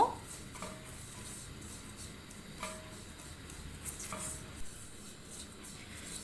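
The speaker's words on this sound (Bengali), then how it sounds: "এবারে সুজিটাকে ঘিয়ের মধ্যে খুব ভালো করে ভেজে নেব" Steady scraping and stirring of a spoon through semolina roasting in ghee in a hot pan, with soft repeated strokes and a faint background hiss.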